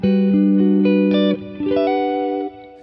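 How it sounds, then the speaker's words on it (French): Clean electric guitar tone through a short, musical digital reverb: several plucked notes and a chord, loud and close, each ringing briefly before the next, with no talking. "si je vais sur mon clean et que je mets la reverb, donc c'est une reverb assez courte, assez musicale"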